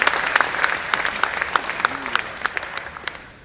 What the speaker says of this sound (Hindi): जोर से ताली बजा के स्वागत करो,